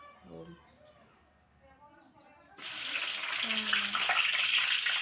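Shallots and garlic hit hot oil partway through, bursting into a loud, steady sizzle that fills the rest of the moment after quieter kitchen sounds and a voice.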